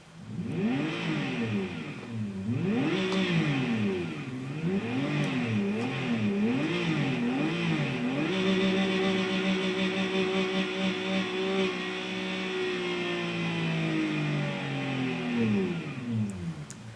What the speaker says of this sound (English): I will rev up the 370Z and show you how this little shift indicator works